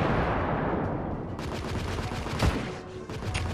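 Gunfire in the video game The Order: 1886, a dense muffled fusillade of repeated shots with sharper cracks breaking through a continuous rumbling background.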